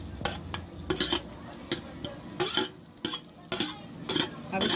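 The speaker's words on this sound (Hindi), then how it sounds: "अब इसमें हम डालेंगे प्याज भुनी हुई।" Fried onions being stirred into a masala of spices cooked in oil in a pan, giving a soft sizzle with repeated scraping stir strokes in short bursts, close and fairly quiet, with no talk.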